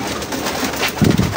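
Ringneck pigeons coo softly in a low, brief burst against a steady wash of background noise.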